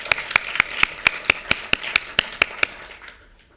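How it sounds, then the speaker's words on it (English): Applause from an audience at a college year-end celebration, heard as a steady series of about a dozen sharp, evenly spaced claps, fairly close and loud, fading out near the end with no talking over it. "Let's give him a round of applause."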